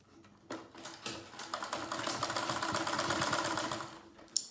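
A sewing machine stitches a seam on a lined pencil skirt, starting in short bursts and then settling into a fast, even mechanical chatter for a few seconds before stopping, close and alone.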